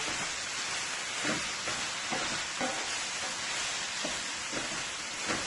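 Potatoes and sausage sauté in a pan, giving a constant close sizzle with periodic stirring scrapes and no talking.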